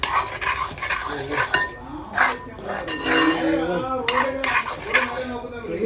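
Chickpea roast is stirred in a pan with repeated scraping, clinking utensil strokes and a light sizzle underneath, close and busy, while a voice talks over parts of it.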